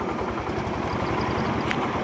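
A motorcycle engine drones steadily while riding through floodwater in a flooded village street, with broadband rumble and splashing noise throughout.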